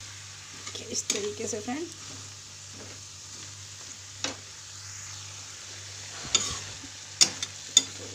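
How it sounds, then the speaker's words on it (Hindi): Potatoes being stirred and mixed in a frying pan, with a soft sizzle and scraping stirs under a steady hum, broken by a few sharp clinks of a spoon against the pan; a person speaks briefly partway through. "और आलू डालने के बाद अच्छे से हम इसको चलाते हुए मिक्स कर लेंगे"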